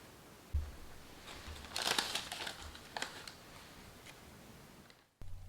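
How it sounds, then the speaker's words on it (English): Baking paper crinkles and rustles while lining the sides of a cake tin with a removable base for a New York cheesecake, a few close, crisp bursts of crumpling with soft taps between and quiet gaps. "Also line the sides of the tin with some baking paper."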